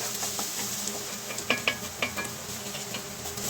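A pasta e ceci base with fennel and red pepper flakes cooks in a pan, a soft sizzle under a few sharp utensil scrapes and clinks against the pan, nearby with no talking.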